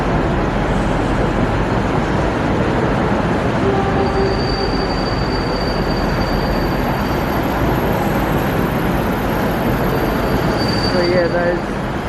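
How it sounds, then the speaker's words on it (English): A train at Southern Cross Station in Melbourne rumbles steadily under the station's roof, with faint wheel squeals and a high whine rising above the continuous, loud rolling noise. "There is that other train over there as well."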